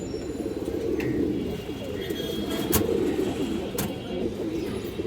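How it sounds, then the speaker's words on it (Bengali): Pigeons cooing in a loft where birds are shown for sale, a continuous low murmuring coo that rises and falls throughout, with faint chirps and brief clicks on top and no talking. "অনেক সুন্দর একটা কবুতর"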